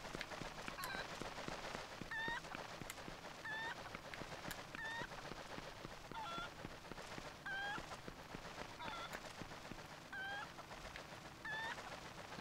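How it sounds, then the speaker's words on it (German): A golden chicken in the video game Zelda Twilight Princess HD gives short repeated clucks at regular intervals, fairly faint against a soft game background, with no talking. "was bringt mir das jetzt mit diesem goldenen Huhn?"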